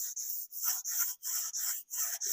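Sandpaper rubs by hand against a damaged engine crankshaft as it is smoothed, giving repeated short rasping strokes, about seven in a steady rhythm, close and fairly soft, with no talk.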